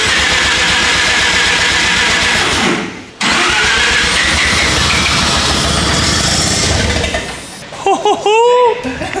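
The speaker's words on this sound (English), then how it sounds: "The turbo is spooling on crank." A Mazda 13B turbo rotary engine in a replica Lamborghini kit car cranks loudly and steadily for several seconds, pauses briefly, cranks again, then catches with a few sharp revs near the end while people talk nearby.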